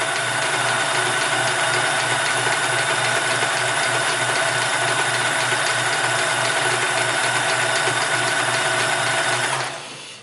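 A Sears Kenmore 158 series sewing machine stitches fabric in one steady, loud, continuous mechanical whir with a rapid rhythmic clatter, running without pause until it stops abruptly just before the end.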